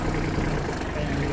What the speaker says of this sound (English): I'm going to have to rev the tractor up here just a minute, so it may get a little louder.